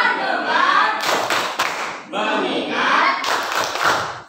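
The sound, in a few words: class clapping hands in a rhythmic clap game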